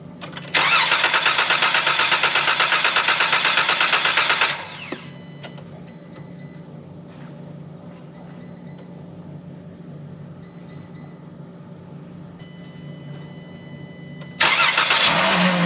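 A van engine, just fixed after a bad fuel relay, cranks and catches, then settles into a steady mid-pitched idle, with the starter's whir at the start and again near the end.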